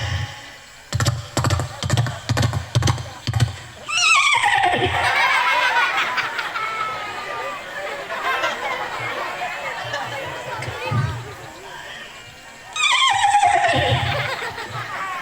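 A man at an outdoor religious gathering imitates a horse neighing into a microphone, a long shrill whinny with a second one later, after a run of rapid rhythmic thumps, with crowd chatter and laughter around it.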